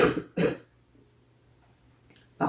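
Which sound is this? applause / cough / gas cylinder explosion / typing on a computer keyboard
cough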